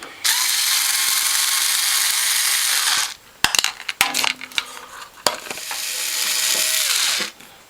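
A power screwdriver whirs loudly on a Norwalk juicer as sheet metal screws are backed out, followed by a cluster of metallic clicks and clatter, then a second long whirring run.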